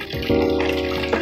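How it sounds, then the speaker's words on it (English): Stuffed animals are squeezed underwater in a basin, producing close sloshing and gurgling as water is pressed through the fabric, with a brief bubbling burst. "So I'm just going to squeeze them so that the water will really get in"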